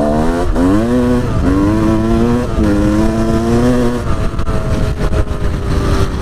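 Kawasaki KDX enduro motorcycle riding a rough trail at night, its two-stroke engine close and loud, rising and falling through several revving pulls with gear changes.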